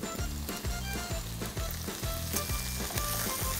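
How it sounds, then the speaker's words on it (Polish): Bacon frying with chopped parsley in a pan for spaghetti carbonara: a dense, steady sizzle close by, broken by a regular rhythm of stirring scrapes and knocks roughly every half second. "Przesmażam całość."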